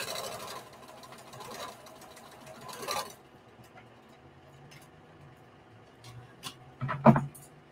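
Sewing machine back stitching on a bandana T-shirt dress, with short bursts of rapid mechanical stitching in the first three seconds, then quiet with a few faint clicks and a sharp knock near the end.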